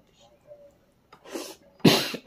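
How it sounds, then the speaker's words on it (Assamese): A person coughs a few times up close, with two hard, loud bursts near the end after softer breathy sounds. "কাহ লাগিছে কাহ"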